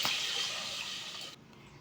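Water poured from a vessel into a cooking pot already holding ghee and whole spices, ready for boiling biryani rice; a steady close splashing stream that runs about a second and a quarter, then stops abruptly.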